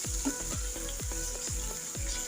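A paste of ginger, garlic and cumin fries in hot oil for a fish curry, giving a steady low sizzle with soft rhythmic scrapes of a spatula about every half second, close by and with no talk.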